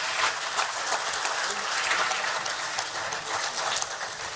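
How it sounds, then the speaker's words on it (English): Steady, dense applause from a large audience at a youth symposium, an even unbroken roar of many hands clapping together that holds at a constant level for several seconds with no voices on top. "Another round of applause."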